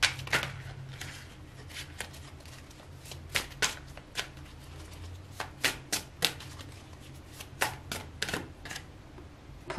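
Tarot cards being shuffled and drawn for a reading, a soft papery riffle under quick irregular snaps and flicks of single cards, close and fairly quiet, with no talking.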